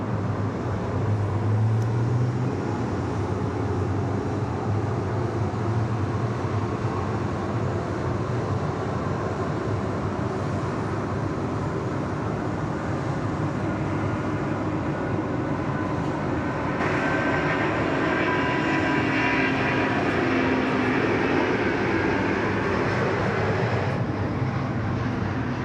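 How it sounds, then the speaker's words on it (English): A Cathay Pacific Airbus A350 takes off from runway 34 left at Sydney Airport, a sustained, powerful jet roar that stays loud throughout and shifts in tone as the aircraft accelerates and passes. "Here we go, Cathay 110 on the roll, 34 left, heading back to Hong Kong."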